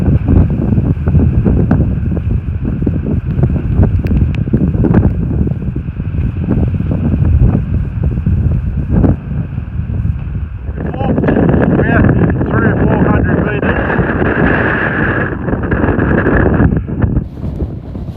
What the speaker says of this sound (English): Sometimes it gets windy.